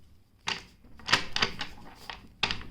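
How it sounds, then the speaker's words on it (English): A deck of tarot cards being cut by hand: several quick papery riffles and slaps spread over a few seconds. The sounds come in short bursts close to the microphone, with no talking. "I've already shuffled cards and I'll just give one final"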